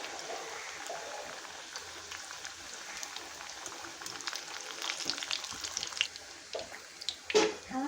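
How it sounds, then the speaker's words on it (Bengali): Bhatura deep-frying one at a time in hot oil, giving a soft, continuous bubbling sizzle that swells louder toward the end as the dough puffs, heard fairly close with no talk. "তেল আমার গরম হয়ে গেছে। এখন আমি ভেজে নেব একটা একটা করে বেলে।"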